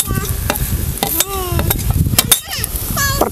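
Pavta beans being stirred and sautéed with turmeric in oil over a wood-fired stove, with scraping spoon strokes against the pan, metallic clinks and a soft sizzle throughout.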